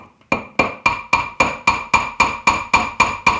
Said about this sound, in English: And then I would grab a little hammer and simply tap.